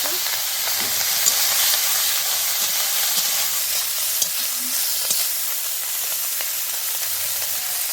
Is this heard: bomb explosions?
no